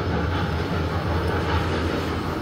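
Continuous low mechanical rumble and hum of a Montgomery scenic hydraulic elevator moving up in a shopping center, steady and fairly loud, with no voices.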